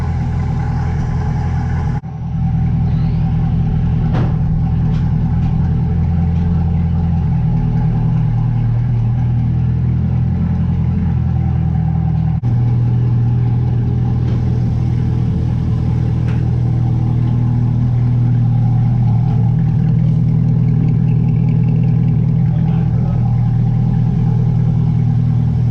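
2020-2023 C8 Corvette engine idling while warming the oil before an oil check: a loud, steady, deep rumble right up close, holding even throughout with a slight shift in tone partway, no voices.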